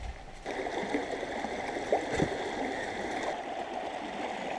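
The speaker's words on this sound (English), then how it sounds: "Starting it off with a little creek crossing here." Red Creek water flows and trickles steadily over rocks nearby in Dolly Sods Wilderness, a soft continuous rushing with a brief splash partway through.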